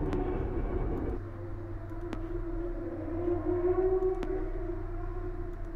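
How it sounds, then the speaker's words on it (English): A rising, wailing siren-like tone from the Five Nights at Freddy's fan game Fazscare sustains over a low droning background with brief sharp clicks, played alone at moderate loudness. "that noise literally just sounds like a siren"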